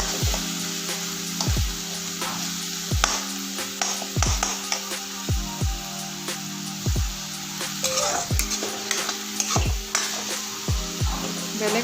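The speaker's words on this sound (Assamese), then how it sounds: "পিঁয়াজ আৰু টমেটোখিনি ভাজি লৈছো" Chopped onion and tomato frying in a pan, a continuous sizzle broken by regular sharp scrapes and knocks of a spatula every second or so, close and alone.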